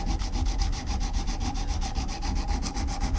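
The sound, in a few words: hand sanding a screwdriver shaft with a wooden sanding block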